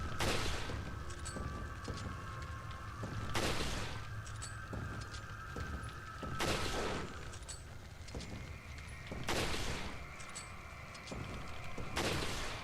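Gunfire in Resident Evil 4 cracks out in four or five well-spaced single shots over a faint steady background hum and game ambience.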